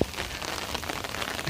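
Steady rain falls during the rainy season, a dense, even patter on surfaces that continues throughout with no voices.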